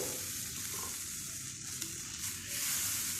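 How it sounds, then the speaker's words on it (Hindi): Milk is poured into a bubbling flour roux for a creamy pasta sauce and stirred, giving a steady close sizzle with soft scraping and swirling throughout, no voices. "अब हम इसमें 3 कप मिल्क ऐड कर देंगे और इसको भी साथ साथ अच्छे से मिक्स करेंगे"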